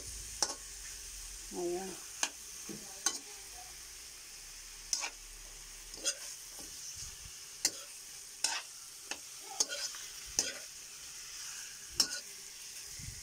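Chicken sautéing with onion, garlic and ginger: a quiet, steady sizzle punctuated by repeated sharp ticks and scrapes of stirring, with a brief spoken word early on.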